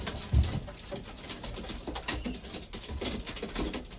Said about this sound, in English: we had a couple pigeons born in my coop